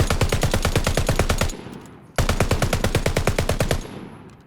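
Whitley light machine gun firing in Call of Duty Vanguard, two sustained bursts of rapid, evenly spaced automatic shots, loud and close, each burst trailing off into a brief echo.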